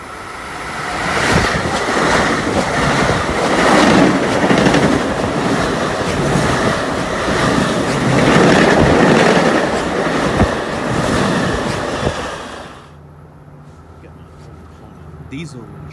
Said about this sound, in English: Diesel trains.